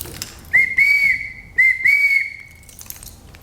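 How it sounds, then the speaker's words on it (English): A Native American cedar whistle from the Northwest blown close and loud in a few clear sustained tones, two phrases each made of a short note followed by a longer one. "this is another Native American whistle from right here in the Northwest,"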